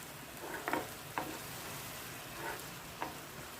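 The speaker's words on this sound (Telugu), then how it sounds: "టొమాటో కూడా పచ్చివాసన పోయేంత వరకు వేయించుకోవాలండి." Onions and tomatoes with tomato puree frying in a pan for a cashew and meal maker masala curry, a steady soft sizzle with a few brief stirring scrapes, close and fairly quiet.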